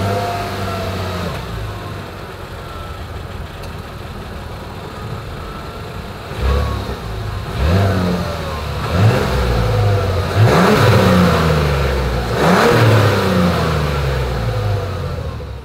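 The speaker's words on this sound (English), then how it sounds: "As always, here is that exhaust clip." A 2024 Mazda CX-90 SUV idles with a low exhaust hum, then revs several times in quick bursts, each rising and falling in pitch, close and fairly loud.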